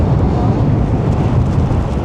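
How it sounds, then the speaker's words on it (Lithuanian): Strong coastal wind buffeting a cyclist riding the Hel peninsula coast near Gdańsk, a loud, continuous low roar of gusts against the microphone with no break. "Kai vėjas pučia dideliai."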